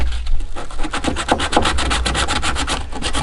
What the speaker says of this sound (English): This is the boring bit. Sanding, getting all the dust out.